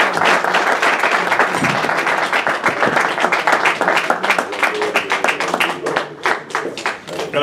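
An audience at a boxing press conference breaks into sustained applause, many hands clapping densely at close range. The clapping thins into scattered individual claps near the end.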